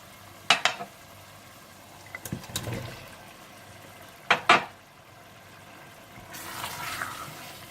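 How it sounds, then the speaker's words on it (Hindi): Chopped potatoes and green chillies drop into hot masala for an aloo baingan, with two sharp clattering bursts of stirring and then a soft sizzle building near the end. "आप इसमें कटी हुई हरी मिर्चें और कटे हुए आलू डालकर थोड़ा सा भून लीजिए"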